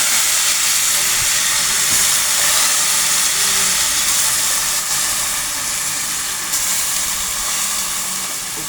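Rice poured into hot salted oil for yellow Egyptian koshari, a dense, loud, continuous hiss of sizzling that holds steady and eases slightly toward the end, with no talking.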